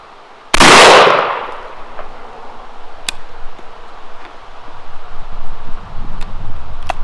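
A compact 20 gauge H&R Ultra Slug Hunter with a rifled barrel fires a single loud, sharp shot of number 9 birdshot outdoors, followed by a brief decaying echo and then steady wind and rustle.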